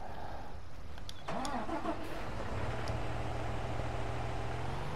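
A tractor engine cranks and catches in Farming Simulator 19, a brief starter whine followed by a steady diesel idle that settles into a continuous low rumble.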